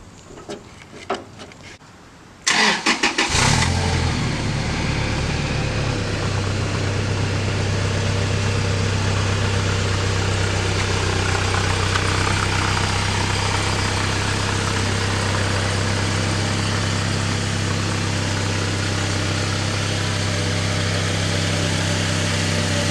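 A 2006 Toyota Tacoma pickup engine starts up and settles into a steady, close idle with a low rumbling hum that continues unbroken for the rest of the clip.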